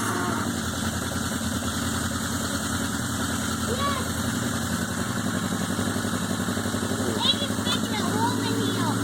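A Yamaha Maxim XJ1100 motorcycle engine, started without the choke and smoking, idles roughly nearby with an uneven, lumpy chug and a steady mechanical hum. Faint voices come and go underneath.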